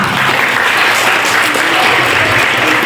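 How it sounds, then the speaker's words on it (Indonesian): A graduation ceremony audience at an Islamic boarding school in Bangkalan breaks into loud, continuous applause, dense clapping sustained throughout. "Tepuk tangannya lagi"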